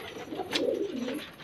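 Male Rampuri pigeons of the jaaldar makoe type coo softly in a short low burbling phrase, close but fairly quiet, alone without talk.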